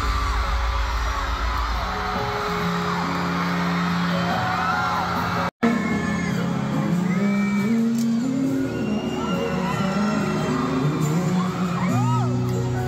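A large concert crowd at a show whoops and cheers continuously over loud amplified music, with yells rising from the audience and a brief cut partway through.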